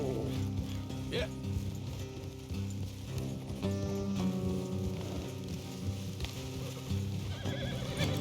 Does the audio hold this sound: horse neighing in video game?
yes